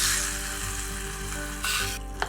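Nutmeg and cashew nuts frying in fat for temple-style sweet pongal, a steady close sizzle throughout with a brief stir or clink near the end and no talk.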